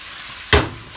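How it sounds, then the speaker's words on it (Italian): Mushrooms sautéing in a pan hiss in a steady sizzle, and a single loud stir or toss partway through briefly swells the noise before it settles back. "Andiamo a inserire praticamente i nostri funghi che facciamo praticamente girare un po'"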